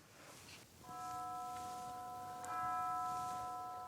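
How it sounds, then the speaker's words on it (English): A very distant, soft pitched bell on B natural from Puccini's Tosca rings with sustained harmonic overtones, struck once and then again around the midpoint, fading slowly into quiet orchestral ambience. "the first bell, the B natural here, is marked lontanissimo"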